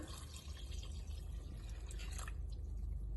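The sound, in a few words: water poured into a pot with a bouillon cube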